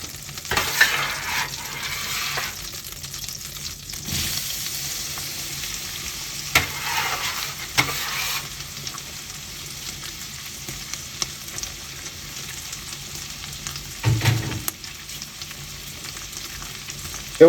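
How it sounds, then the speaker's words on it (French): Onions and garlic fry gently in olive oil and butter, giving a steady, soft sizzle throughout. Occasional stirring clinks and taps from a spoon or pan stand out over it. "J'ai mis une cuillère à café d'huile d'olive et à peu près, on va dire, allez, 10 grammes, 15 grammes de beurre. Et je vais y ajouter mes oignons et mon ail."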